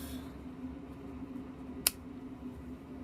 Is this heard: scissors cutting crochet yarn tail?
yes